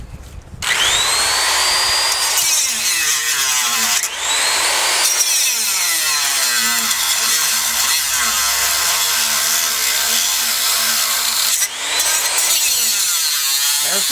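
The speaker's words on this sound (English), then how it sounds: "When you start seeing sparks, that's when you're cutting through the little screw there." An angle grinder cuts through a small screw on an Evinrude outboard tiller throttle assembly, a loud continuous high-pitched whine with rising and falling grinding bursts that briefly stop and restart twice, close up and with no talking.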